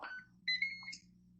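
A Ninja Foodi air crisper beeps after start is pressed, giving a short two-tone electronic chirp, clear and close in an otherwise quiet kitchen.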